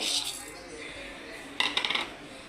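Cumin seeds and peppercorns dropping into a dry pan while making rasam powder, a quick burst of small clinking, rattling impacts after a steady background hiss.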